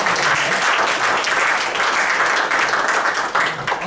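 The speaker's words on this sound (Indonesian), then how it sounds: "Kasih tepuk tangan sekali lagi untuk Pak Agus" An audience claps for Pak Agus at a Prudential leaders' gathering: dense, sustained applause filling the room, holding steady before thinning slightly near the end.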